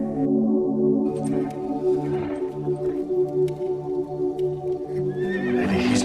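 A restless horse in a stable gives loud, wavering neighs and whinnies, with hooves stamping and shuffling underneath, close and continuous over six seconds.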